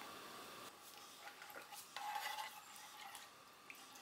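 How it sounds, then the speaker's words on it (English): Milk and corn flour are stirred in a pan, a faint, soft scraping and swishing of a spoon against the metal, quiet and close, with no talking. "Give a mix till the corn flour dissolves."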